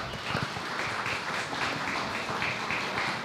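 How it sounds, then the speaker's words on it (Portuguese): Audience in a legislative school auditorium applauding after a talk on deafblindness, a steady dense wash of clapping held at an even level throughout, with faint scattered sounds mixed in. "Senhoras e senhores, uma salva de palmas."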